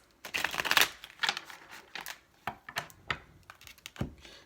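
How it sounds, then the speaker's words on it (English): A deck of tarot cards shuffled by hand up close: an opening burst of rapid riffling flicks, then a string of shorter, crisp card slaps and taps spaced across a few seconds, with no talking. "Final shuffle."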